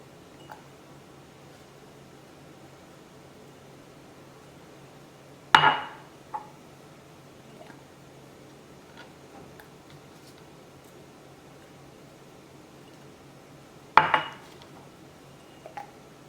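Olives and lemon slices being packed into glass jars, with two sharp glassy clinks and knocks standing out clearly over a quiet room hum.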